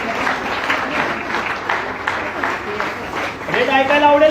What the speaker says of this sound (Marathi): जोरदार टाळ्या पाहिजेत मला.